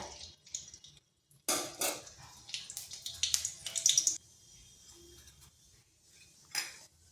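Whole cumin seeds drop into hot oil in a kadai while making fried onion snacks, giving a burst of crackling sizzle and spatter that fades to a low simmer, with a brief flare near the end.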